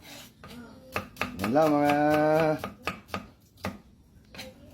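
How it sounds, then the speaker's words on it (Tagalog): A knife chopping onion into small pieces on a board, crisp close taps in an uneven rhythm, briefly covered when someone speaks in the middle. "Next, sibuyas. Kayatin na natin ng maliliit."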